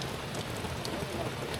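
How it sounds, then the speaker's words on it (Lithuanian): Steady rain pattering on a large gazebo roof, a dense even hiss with faint scattered drops, heard close and continuous with no break. "Lyja lietus paprastai."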